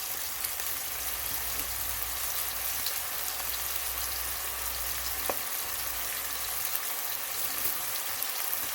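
Salted onions fry in a pan for a soya paneer curry, giving a steady, even sizzle with faint crackles throughout and no talking.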